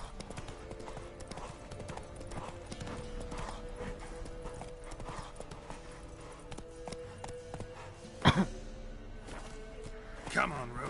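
Horse hooves clip-clopping at a gallop in The Witcher 3 video game, a steady rhythmic beat under game music and ambience, with a couple of louder thumps near the end and a voice speaking over it.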